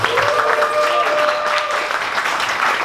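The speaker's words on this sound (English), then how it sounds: "So everyone give a big round of applause." Applause for a speaker taking the stage at a morning startup pitch event: a loud, steady wash of crowd clapping with a faint tonal hum, sustained for the whole stretch.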